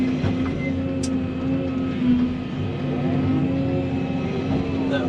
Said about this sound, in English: Start running the motor grader over it, slicking everything up.